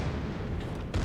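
Heavy naval guns firing at enemy ship turrets in World of Warships, a deep rumbling boom that fills the short moment at close range, with a second blast rising at the very end.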